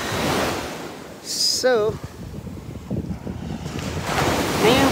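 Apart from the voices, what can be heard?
sea waves at the shore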